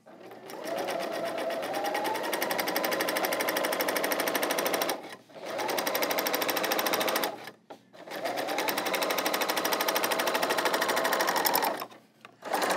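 An L890 serger stitches across fabric in three long sustained runs, its rapid close whirring broken by short stops between passes.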